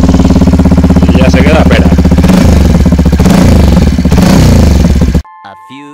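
A Benelli TNT 125 motorcycle with a direct-line exhaust and a DB killer installed runs loud and close with a rapid, throbbing idle and blips of revving, then cuts off abruptly near the end, with a voice speaking over it.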